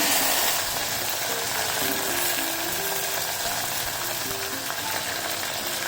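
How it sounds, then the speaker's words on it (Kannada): Mustard seeds and curry leaves frying in hot oil make a steady close sizzle with dense crackle throughout, no voices. "ಈಗ ಸಾಸಿವೆ ಹಾಕಿದ್ದೀನಿ, ಕರಿಬೇವಿನ ಸೊಪ್ಪು"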